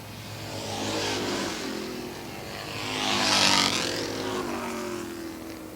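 Race cars roar past on a short oval track, engines swelling twice as each passes close by and fading between, loud and alone without talk.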